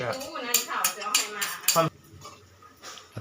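Mushroom curry being scooped from a pot, with clinking ladle-on-pot scrapes and knocks several times in the first two seconds, under a voice talking, then quieter rustling.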